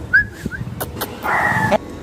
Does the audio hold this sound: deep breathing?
no